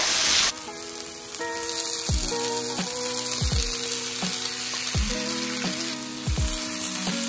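Shrimp sizzles in a pan for tacos, an even frying crackle that runs steadily throughout, while something with a sharp musical tone plays repeatedly over it.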